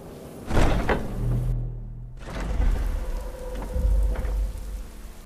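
Rain falling in the video game Skyrim: a steady wash of rainfall on surfaces, with low rumbling swells of distant thunder and a brief muffled thud partway through.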